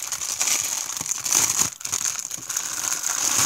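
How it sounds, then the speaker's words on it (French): Material for a costume elf beard being cut out by hand, giving a steady papery crinkling and rustling with one short pause midway, close and fairly loud. "ce que je vais faire, c'est découper donc la fameuse barbe."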